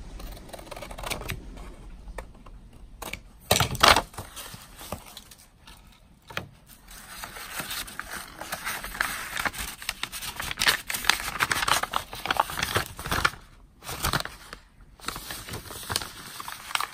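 Scissors cut through decorative paper while trimming an envelope to size, a steady run of dry snipping and rustling close by with short pauses, and no talking.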